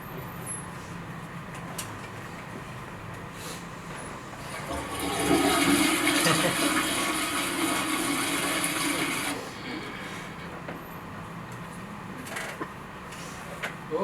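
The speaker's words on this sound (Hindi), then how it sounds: "ये फ्लश ही नहीं हो रहा।" A toilet flush surges up midway, a loud watery rush lasting about four seconds before dropping back to a quieter background hiss in a domestic bathroom.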